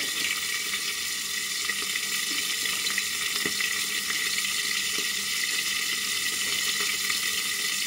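A fish head frying in a pan for a Bengali muri ghonto, giving a steady broadband hiss with faint pops and occasional light clicks, constant and close with no talking.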